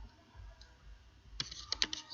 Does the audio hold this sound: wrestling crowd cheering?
no